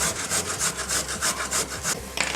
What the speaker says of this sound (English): I'm going to grate the 2 carrots, the potato, and I'm going to grate the tomato